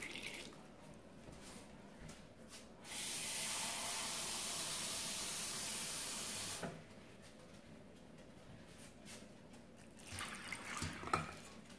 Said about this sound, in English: Now it's time to add the water.